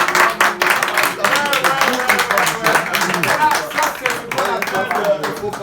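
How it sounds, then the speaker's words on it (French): An audience on a French radio debate show claps in quick, irregular bursts, with speech running over the clapping the whole time. "merci d'applaudir les gars"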